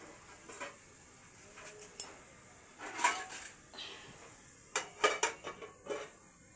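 A lid set onto a cooking pan of cauliflower curry with pepper, heard as a few close metallic clinks and clatters spread over several seconds against a quiet kitchen background.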